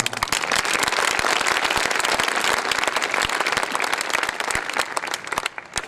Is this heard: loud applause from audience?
yes